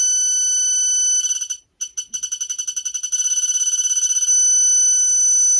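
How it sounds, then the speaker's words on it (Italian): A digital torque wrench gives short electronic beeps that quicken as it nears its 32.5 target setting, then switches to one steady continuous tone, loud and clear with nothing else heard. "Appena raggiungerò 32 e mezzo sarà un bip fisso."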